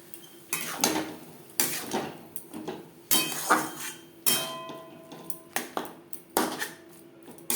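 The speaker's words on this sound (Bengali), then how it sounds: "অল্প অল্প করে জল অ্যাড করে সুজি নাড়াচাড়া করে দেবো।" A spoon scrapes and clinks against a pan as semolina is stirred and water is added over a low to medium gas flame, giving a steady series of close, sharp metallic knocks.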